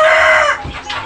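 Crossbred free-range village chickens cluck loudly and close, a drawn-out high call followed by a couple of shorter softer clucks.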